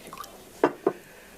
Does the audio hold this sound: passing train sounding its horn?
no